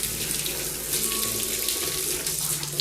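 Water rinses a Clio 1.8 during a complete cleaning and restoration, a steady close hiss of spraying with no pauses.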